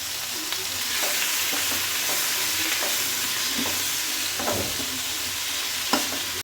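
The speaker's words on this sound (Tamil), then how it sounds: "இதையும் போட்டு நல்லா வதக்கிக்கலாம்." Indian pennywort leaves sauté in a hot pan, a steady loud sizzle and frying hiss throughout, with occasional scrapes and taps of a stirring spoon.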